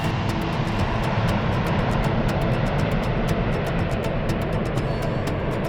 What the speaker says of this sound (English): the pilot pulls back on the column, rotates the airplane up, drags the tail down the runway, and then the airplane lifts off into the air